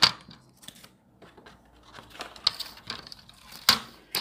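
A paper trimmer slices strips of paper with a string of crisp, close scraping cuts and light rustles, including a couple of sharper snips, with no talking.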